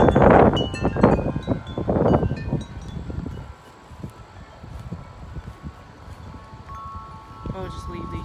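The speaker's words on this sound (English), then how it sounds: "I can hear some strong wind gusts" Strong wind gusts before a storm roar loudly for the first few seconds, then ease into a steadier, lower rush, with wind chimes tinkling faintly throughout.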